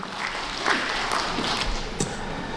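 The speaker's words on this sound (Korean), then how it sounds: "박수 한번 주십시오." Audience applause at a book launch event, a steady wash of clapping from a crowd that holds throughout, with a few sharper individual claps rising above it.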